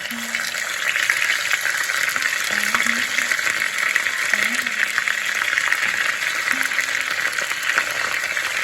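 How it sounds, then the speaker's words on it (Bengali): Ginger frying in slightly cooled oil for moong dal with bottle gourd, a steady broad sizzle and crackle running throughout at close range, with faint low tones coming and going underneath. "এখন বাকি আদাটা ভেজে দেব"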